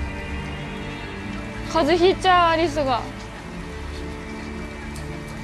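Steady rain falling at night in November in Detroit: Become Human, a continuous soft hiss in the background while a person speaks briefly in the middle.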